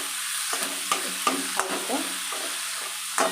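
Dry red chilli, nigella seeds and garlic sizzle steadily in hot oil, with a handful of sharp spatter pops and scraping stirs breaking through the hiss over a few seconds.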